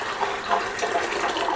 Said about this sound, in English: I'm going to add a little bit of water back to it.